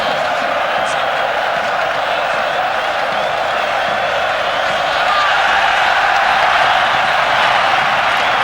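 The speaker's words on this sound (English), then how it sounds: "And the crowd almost taking the roof off this splendid" A large indoor crowd at a futsal final roars in a sustained wash of cheering and applause that swells slightly toward the end, with a commentator talking over it.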